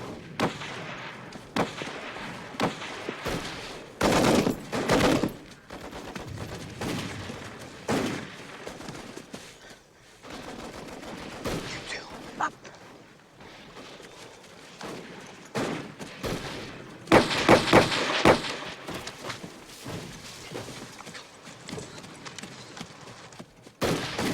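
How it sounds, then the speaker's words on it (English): Bursts of machine gun and rifle fire crackle through a war film battle scene, with rapid volleys and scattered single shots of varying loudness, some close and some distant, continuing over about twenty-four seconds without speech. "I want you to flank those machine guns and take them out"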